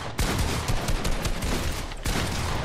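Dense rapid gunfire in the battle royale game Fortnite, a loud continuous barrage of shots close up that cuts off briefly near two seconds before resuming.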